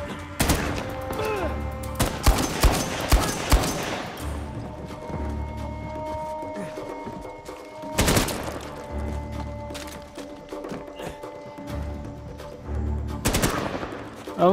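Bursts of rapid gunfire crackle in clusters in the video game Uncharted 4, separated by lulls of low rumbling background noise, loud and close.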